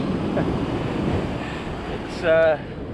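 Surf rolling and washing on a beach during surf fishing, with steady broadband roar and wind buffeting the microphone, and a brief louder gust or splash near the end.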